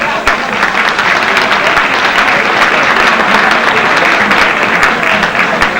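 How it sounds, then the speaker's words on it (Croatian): A crowd applauds steadily and loudly at a 1993 Istrian county sportspeople awards ceremony as a sports association plaque is handed over. The dense, continuous clapping holds for the whole stretch and may carry faint voices beneath it. "I još jedan aplauz."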